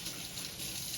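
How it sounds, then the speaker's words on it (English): A kitchen water tap runs steadily during a handwash, a continuous soft hiss and gush of flowing water at low volume, no talking. "Gotta wash my hands real quick."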